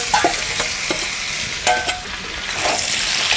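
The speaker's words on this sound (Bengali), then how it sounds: "কুমড়োটা ভাজা হয়ে গেছে বন্ধুরা, এবার আমি আলুগুলো কুমড়োর সাথে দিয়ে দেবো।" Potatoes go into a pan of fried pumpkin for a vegetarian Bengali dish, hissing in a steady close sizzle with a few scraping stirs and light clinks of a utensil against the pan.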